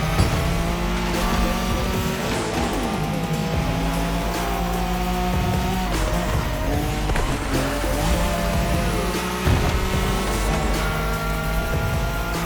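Nissan Skyline racing flat out in a Wangan highway race in The Crew Motorfest, its engine droning loud and steady with bursts of tire squeal, sustained close and continuous throughout.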